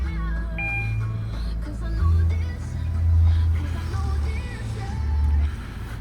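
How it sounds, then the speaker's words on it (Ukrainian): A 2013 Mazda CX-5 with an automatic gearbox and 154,000 km idles with a low, uneven hum that swells and fades, along with faint higher tonal chirps and no talking. "Зроблю запис двигуна"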